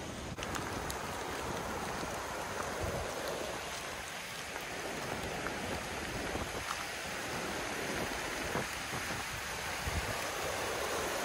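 A trail in Sloppy Floyd State Park in Georgia runs as a rain-flooded stream, cascading with a continuous dense rush of water. Rain patters throughout and a few faint knocks sound nearby.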